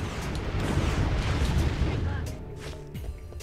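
Rockets exploding in Ratchet & Clank Going Commando, a sustained loud rumble of overlapping blasts that fades after a couple of seconds, leaving faint tonal game sounds and a voice speaking.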